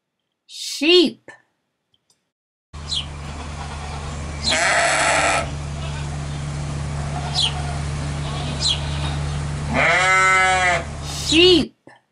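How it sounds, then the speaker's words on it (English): Sheep bleat a few times over steady farmyard background noise, with a short word spoken at the start and near the end. "Sheep."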